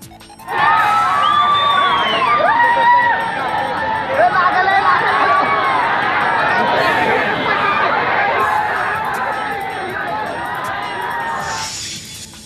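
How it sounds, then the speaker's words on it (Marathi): A dense crowd of party workers cheers and shouts in celebration outdoors, a loud, sustained roar of overlapping voices with whistles and yells that tails off at the end. "उदयनराजे यांना जामीन मंजूर झाल्यावर कार्यकर्त्यांनी जल्लोष केला"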